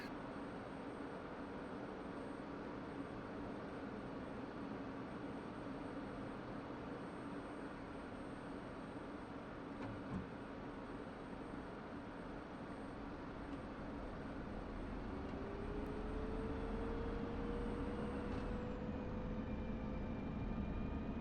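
An F-16 jet engine spools up in DCS World, a steady high whine and broad roar with a rising tone climbing in the last few seconds as the engine winds up, fairly faint throughout.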